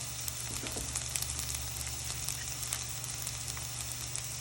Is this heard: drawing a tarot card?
no